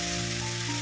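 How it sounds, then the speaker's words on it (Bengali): Dried red chillies and black cumin sizzle in hot oil as a tempering for a raw hilsa curry, giving a steady, close, loud hiss that runs unbroken throughout with no talking. "এরপর কালো জিরে আর শুকনো লঙ্কা ফোড়ন দেবো।"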